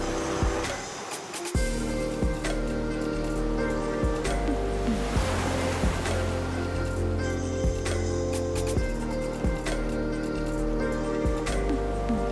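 Waves wash onto Gjipe beach on the Albanian Riviera, a continuous surf rush close by with a brief quieter opening before the water noise swells in.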